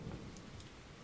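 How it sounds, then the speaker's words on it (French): Rain falls with a low rumble of thunder, heard as a faint, short stretch of steady hiss with a deep roll underneath. "Crotte, il pleut."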